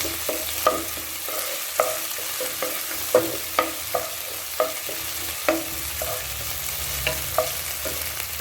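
Onions, ginger-garlic paste and green chillies sautéing in a pan, with soft continuous sizzling and regular spoon scrapes and taps every half second or so.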